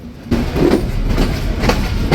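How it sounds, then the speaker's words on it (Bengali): The Chitra Express pulls out of Khulna station toward Dhaka, a loud, close rolling rumble of train wheels with faint rhythmic clicks, starting abruptly and holding steady. "ট্রেনটি তার নির্ধারিত সময় ঠিক সকাল 9টায় খুলনা থেকে ঢাকা অভিমুখে রওনা দিল।"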